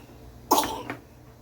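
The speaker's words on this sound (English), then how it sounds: "She has a little bit of a cough right now, too." A child coughs twice in quick succession, close by, with the second cough softer, then quiet.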